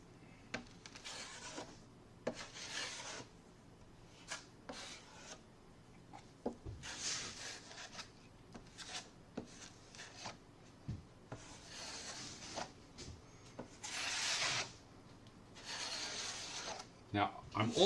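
Drywall compound pulled across a joint with a wide 6-inch knife, giving soft intermittent scraping and rasping strokes at close range, with several longer smears and small taps between them.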